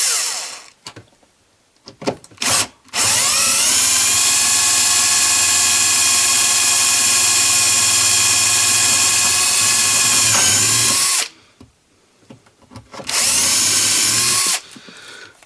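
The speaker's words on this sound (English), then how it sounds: "Such a pain having to drill out the screws." A power drill bores out stuck screws while a boat's nav station table is being removed. It gives a loud, close, sustained high whine for about eight seconds, then a shorter burst after a pause, with brief starts and stops around it.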